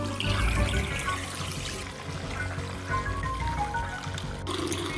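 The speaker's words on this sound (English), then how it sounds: "you run a lovely sudsy bowl of warm water" Warm water runs steadily from a bathroom tap into a sudsy wash bowl, a continuous close pour and trickle heard alone for several seconds.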